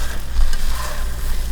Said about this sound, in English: Here, let me stir this.